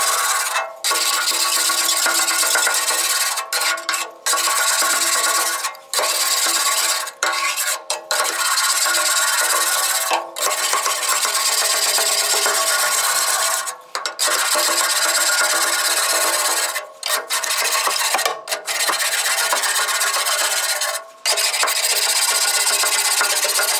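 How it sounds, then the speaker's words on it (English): A scraper rasps across the stainless steel surface of a Classic Edge 750 wood stove, loosening surface deposits in a loud, continuous grating stroke broken by a few brief pauses. "I just scrape off any loose surface stuff."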